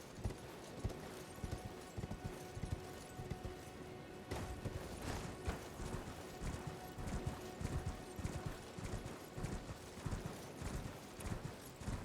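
Hooves of Torrent, the spectral horse in Elden Ring, clip-clop in a quick, steady galloping rhythm throughout, close and fairly soft, with an occasional whinny and faint game sounds underneath.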